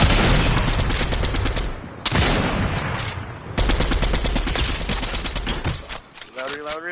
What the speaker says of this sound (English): there's that other group shooting over there